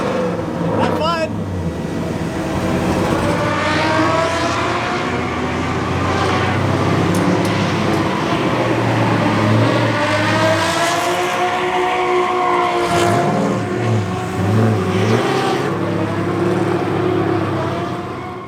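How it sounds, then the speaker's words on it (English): A Nissan S14 engine roars and shifts pitch continuously as it speeds along a track, loud and close, with voices talking over it. "take my car out for a spin"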